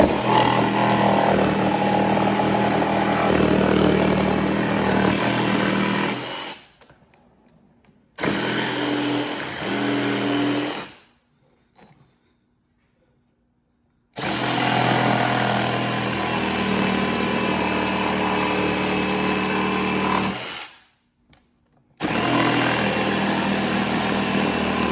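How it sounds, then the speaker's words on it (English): A jigsaw cuts through the wooden board of a DIY cornhole set, its loud, steady buzzing running in long passes that are broken by several short pauses, with no voices. "we're going to take our jigsaw and we're going to cut that out"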